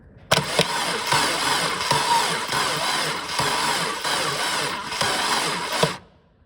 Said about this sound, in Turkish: otomatik bu kablodan hem içeriye elektrik gönderecek hem bunun içindeki şanzımanı ileriye ittirip volant dişlisinden motoru çevirecek